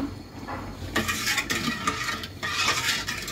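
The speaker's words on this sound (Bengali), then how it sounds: "দেওয়ার পর ভালো করে নাড়তে হবে, না হলে দলা পেকে যাবে" A spoon stirs firni, a rice pudding in milk, in a pot. Soft scraping and clinks against the pot come close up in uneven bursts, with short pauses between strokes.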